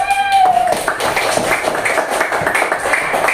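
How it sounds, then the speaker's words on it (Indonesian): Children in a primary school class clap their hands together in a quick rhythmic burst, a dense, close patter of claps filling the room, with a brief voice at the start. "kita beri tepuk"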